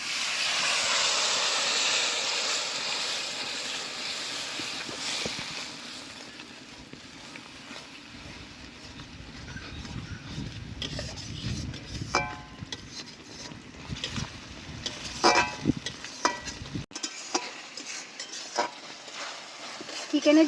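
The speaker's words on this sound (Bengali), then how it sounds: "এবার আমি মশলা ধোয়া জলটা দিয়ে মশলাটা ভালো করে কষে নেব।" Spice paste for Bengali chicken kosha, loosened with the water used to rinse the spices, sizzles loudly in a pan. The hiss is strongest at first, then settles under scraping stirring strokes and clinks of a spoon.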